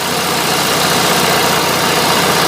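An Onan propane generator engine runs under a 3,000 watt load, a loud, steady, dense roar that holds constant throughout with no breaks or voices.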